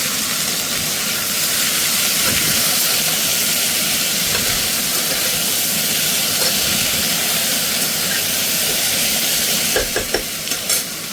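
Pieces of kundru (ivy gourd) sizzle loudly in a hot pan, a dense continuous hiss with brief stirring clatters near the end.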